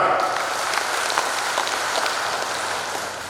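Dense, steady applause from an audience at a large national clan assembly in Indonesia, a continuous wash of many hands clapping close by without pause for the whole stretch, fading slightly at the end.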